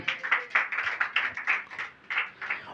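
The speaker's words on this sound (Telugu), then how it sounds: "మరొకసారి చప్పట్లు కొట్టాలి" Hands clapping together in a church congregation during a sermon, a brisk run of close, fairly loud claps in an uneven rhythm that rises and falls with no voices over it.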